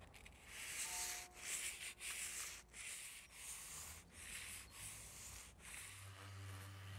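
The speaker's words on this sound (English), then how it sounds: "going to use a sanding block here with some sandpaper" Sanding block with sandpaper rubbed back and forth over a wooden window frame, giving a quiet, close, rhythmic rasping of repeated strokes, each about half a second long, with no talk.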